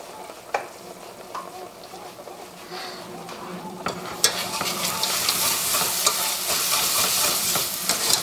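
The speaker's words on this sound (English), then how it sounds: "I'm just going to stir in the butter, make sure it's all coated." Butter is stirred into hot caramelised sugar in a pan, with sizzling and scraping that grow louder and denser as the stirring goes on, and light clinks of a utensil against the pan.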